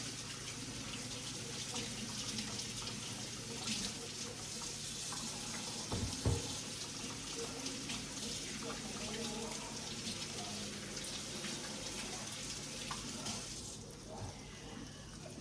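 Tap water runs steadily into a home sink during handwashing, a continuous splashing hiss with a brief knock partway through and faint background voice.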